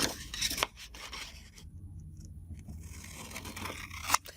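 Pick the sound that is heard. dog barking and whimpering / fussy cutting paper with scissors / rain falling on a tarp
fussy cutting paper with scissors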